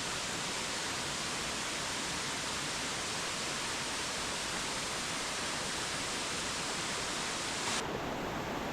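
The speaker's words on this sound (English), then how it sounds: "Beautiful waterfall." A large waterfall deep in Carolina woodland, heard as a steady, even rush of falling water that stays constant and fairly soft throughout, with no other sounds breaking through.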